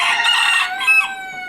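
A rooster crows loudly and close by, one drawn-out call with a second rising note, no talking.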